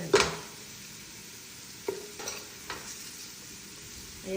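Food browning lightly in oil in a frying pan, stirred with a few soft scraping clicks over a faint, steady sizzle; quiet and close, no talking.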